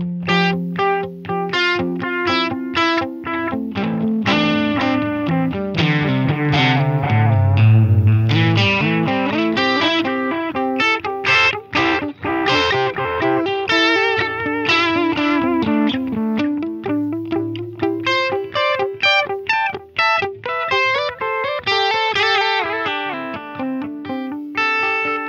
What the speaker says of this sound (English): if you wanted more of your delayed echoes with less of that noise, you put it to 8-bit